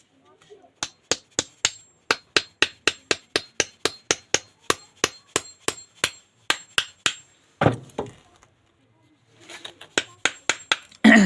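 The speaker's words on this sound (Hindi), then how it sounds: "अभी जो है इसके हमने बेस वाली साइड पे एक कील को ठोक दिया है" A hammer drives a nail into the base of a homemade water heater element, about two dozen sharp evenly spaced blows, a brief pause with rustling, then a few more strikes.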